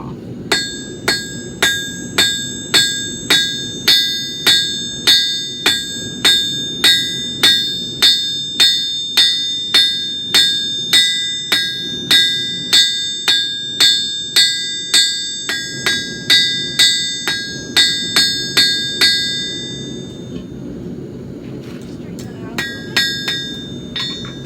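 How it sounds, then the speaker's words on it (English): Steady, evenly paced blacksmith hammer blows ring out on an anvil as a hook is forged, with the hammer landing half on the anvil shoulder. Around twenty bright, clanging strikes come close and loud, then a few looser taps follow. "we're just going to hit it straight up and down, half of the hammer on the anvil, half of the hammer off"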